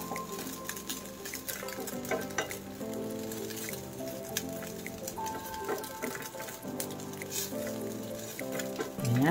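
Pork, chicken and shrimp sisig fries to golden brown in a pan, a close, continuous crackling sizzle with occasional stirring scrapes and faint music playing in the background.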